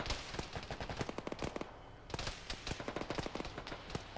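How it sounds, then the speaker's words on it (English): Machine gun fire in ArmA, repeated bursts of sharp cracks in irregular rhythm with a brief pause midway, fairly close and dense, mixed with scattered distant shots. "There's a machine gun north-northwest."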